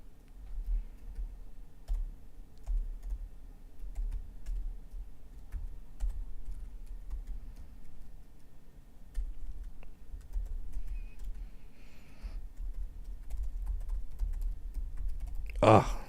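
Steady clicking from a computer keyboard as someone types, close and fairly quiet over a low background hum, with a sharper sound near the end.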